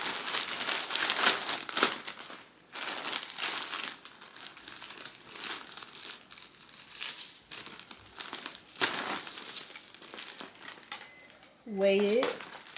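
Clothes packed into a plastic mailer bag for a boutique order, with bursts of crisp plastic crinkling and rustling that come and go, up close, and a short squeaky scrape near the end.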